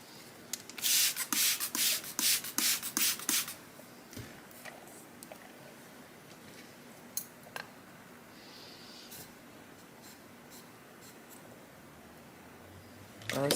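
Shear blade being honed on a sharpening stone: a run of quick, loud rasping strokes in steady rhythm for a few seconds, then a few scattered faint scrapes and taps close by.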